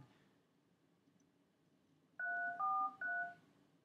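A telephone number is dialed, producing a short run of three loud, clear touch-tone beeps in quick succession over a quiet background, with no talking.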